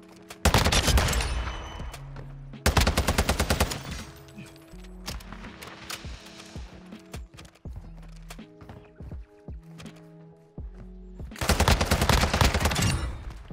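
A TAQ-V rifle fires in a video game in loud rapid bursts, three main volleys separated by quieter stretches of game sounds and tonal effects, close and punchy.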